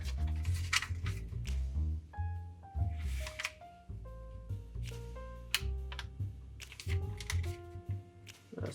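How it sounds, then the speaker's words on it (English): Paper is folded and creased by hand for a traditional origami flapping bird, with soft rustles and scraping crease strokes over low background hum and faint steady musical tones, close and quiet. "Let's line both of those corners up and then crease it down."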